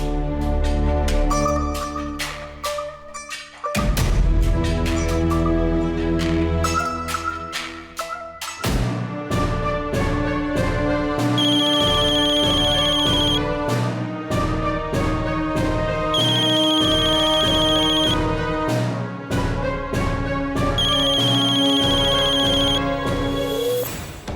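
A phone rings with a loud, melodic electronic ringtone that repeats in a rhythmic musical pattern for over twenty seconds. Bright, bell-like chimes come in at regular intervals, with no voices over it.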